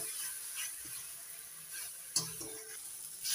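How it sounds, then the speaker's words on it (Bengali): Masala spice paste fries in oil for a boal fish curry, giving a steady close sizzle with occasional clicks of a spoon stirring. "মশলাটা কষিয়ে নিচ্ছি।"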